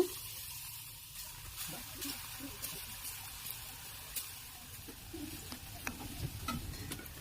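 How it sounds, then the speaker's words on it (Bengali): Chickpea dal fritters fry in oil with a faint, soft sizzling hiss close by, dotted with light clicks and scrapes of stirring, quiet and steady throughout. "একইভাবে সবগুলো বড়ার আকারে ভেজে নেব"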